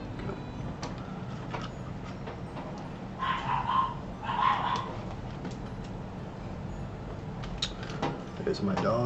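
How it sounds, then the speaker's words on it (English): Dogs bark in a short cluster of a few sharp barks partway through, set against steady room noise and game sound at moderate distance. "There's my dogs."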